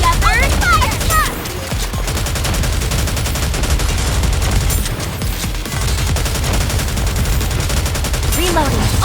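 Heavy, continuous bursts of rapid video game cannon fire and booming shots rattle without letup, with voices calling out over the barrage.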